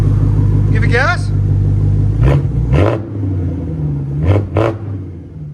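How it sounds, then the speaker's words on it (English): A German BMW V8 rumbles low and close, then rises in a couple of short revs, with people talking over the engine. "Give it gas."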